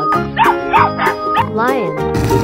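A dog barks in a children's animal-sounds sequence: four or five quick, close barks in a regular rhythm, layered over steady sustained musical tones.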